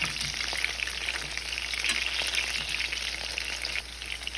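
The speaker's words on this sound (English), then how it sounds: "Just fry the longanisa for about 8 to 10 minutes, or until it turns dark red, firm but not burnt." Skinless Filipino longganisa sausages frying in a pan, a constant close sizzle and crackle of hot oil with small pops, steady throughout.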